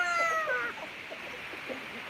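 Rooster and hens in a backyard coop, with a crowing or clucking call at the start, then softer scattered clucks under faint background noise.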